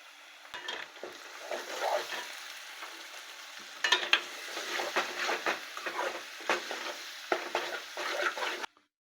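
Onions and green chillies fry in a pan for egg curry, a close sizzle broken by repeated stirring scrapes and light clinks of the spatula against the pan, ending abruptly.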